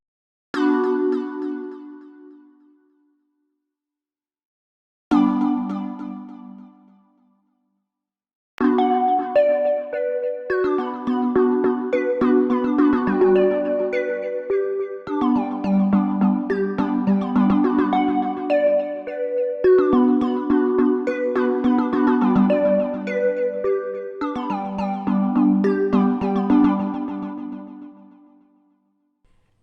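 A bright, bell-like Pulsa Keys synth patch from Hive 2 plays a few isolated chords, then a steady rhythmic pattern of plucky notes, close and clear with no voices.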